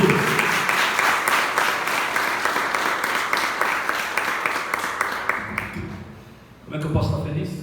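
A church congregation applauds together during a sermon, a dense steady wash of clapping that thins and fades out near the end before a voice comes back in.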